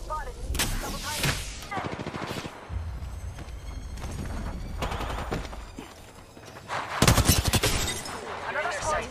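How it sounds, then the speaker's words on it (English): Gunfire in Apex Legends, including the R-99: rapid automatic bursts and single shots crack in irregular volleys, some close and sharp, others farther off, with a game voice speaking between them. "Being shot at."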